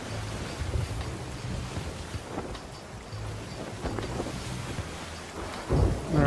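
Thunderstorm in the pirate video game Sea of Thieves: a steady roar of rain and wind over sea water, with rumbles of thunder swelling through it and a louder surge near the end.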